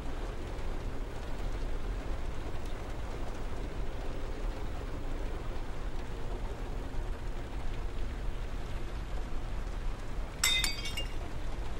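In the Heavy Rain video game, a key gives a brief metallic clink near the end, a short bright rattle over a steady, quiet background hiss.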